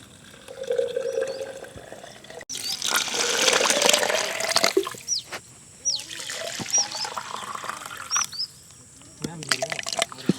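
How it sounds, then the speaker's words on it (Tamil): Water is poured into a bamboo tube holding rice and mutton balls for biryani, giving an uneven splashing and trickling that comes in bursts, with a voice talking over it. "இப்போ தண்ணியை ஊற்றிப்போம்"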